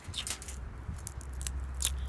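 Crunchy flower-shaped snack being chewed up close, a few brittle crunching bursts spread over two seconds against a low background hum, with no talking.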